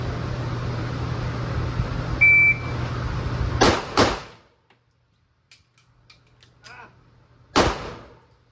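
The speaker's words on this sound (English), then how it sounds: "Alright, we're gonna do 2 shots. 2 shots into a reload, see if it falls freely." A PSA Micro Dagger pistol fires two sharp, loud shots in quick succession, followed after a short pause by quieter metallic magazine and reload clicks and a third sharp bang.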